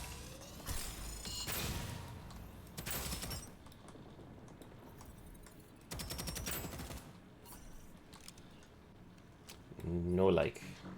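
Bursts of automatic gunfire in the shooter DeadZone Rogue come in separated volleys, fairly quiet under a speaking voice, with a mechanical clank near the end.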